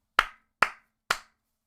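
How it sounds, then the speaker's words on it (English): Three sharp hand claps, evenly spaced about half a second apart, each crisp and close with a quick decay into silence. "There's the 3 claps."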